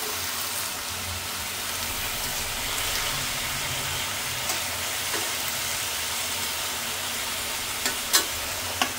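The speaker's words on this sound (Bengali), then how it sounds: "আজকে নিরামিষ বাবা রান্না করতেছে, আজকে ঘি দিয়ে সেই স্বাদ হবে নিরামিষটা" Vegetable curry cooks in ghee in a home kitchen, a steady close frying sizzle with stirring running throughout, plus a few sharp utensil clinks near the end.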